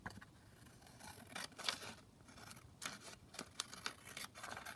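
Scissors trim a paper envelope for a junk journal pocket in faint, close snips and rustles, several short cuts scattered unevenly over a quiet background.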